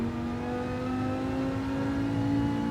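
Race car engine in Gran Turismo 7, a steady, loud mechanical whine whose pitch climbs gradually as the car accelerates, heard alone without talk.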